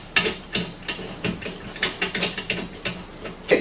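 A ratchet wrench tightens a nut onto a bolt on a Seizmik rear rack, giving close, crisp clicks in short uneven bursts with no talk.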